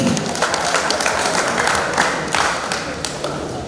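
Audience applause at a Club BCST gathering honouring a coaches' president: steady, dense clapping that fills the whole stretch at close range with no talk over it.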